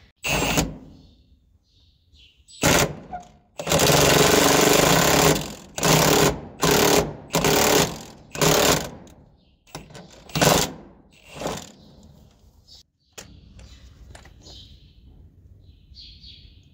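An impact tool with a socket set works a nut loose on equipment under repair, firing in repeated loud rattling bursts of a second or so, separated by short pauses, then a quieter hum.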